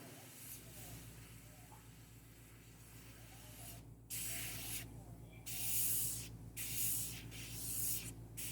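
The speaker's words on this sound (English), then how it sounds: "So I got my airbrush dialed in pretty light, so there's not much coming out." Light airbrush spraying paint on a Wolverine figure, a soft close hiss that comes in a few short bursts, the later ones louder, over a steady background.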